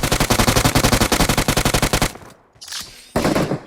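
Automatic gunfire in the PUBG video game rattles off in a fast, loud burst of about two seconds, then a short pause, a faint shot and a final brief burst.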